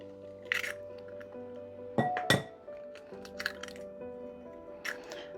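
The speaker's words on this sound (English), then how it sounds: "in the medium bowl, I'm going to crack in 3 eggs" Three eggs cracked into a medium bowl for cornbread dressing, heard as a few sharp clinks and cracks with brief wet squishes spread across several seconds over quiet kitchen background.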